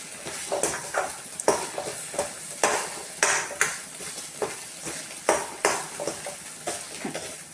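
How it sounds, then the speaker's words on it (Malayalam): Egg pieces being stir-fried in a pan: a soft sizzle under repeated sharp metal spatula clanks and scrapes against the pan, close and rhythmic, with no voices. "ഇങ്ങനെ കഷ്ണങ്ങളായിട്ട് ഇനി നമുക്കതൊന്ന് കുത്തിപ്പൊരിക്കാം."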